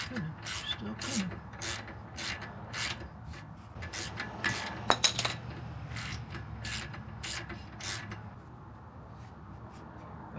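A ratchet wrench clicks in repeated bursts while loosening an 18 mm nut on a Jeep Grand Cherokee WK2 toe arm, with faint background noise throughout and no talking.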